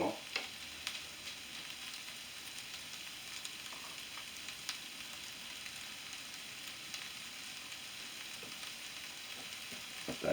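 Roast beef hash of potatoes and carrots sizzles and fries steadily in a pan, a continuous close crackle with occasional faint stirring scrapes and no talking.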